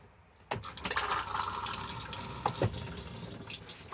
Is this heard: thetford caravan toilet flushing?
yes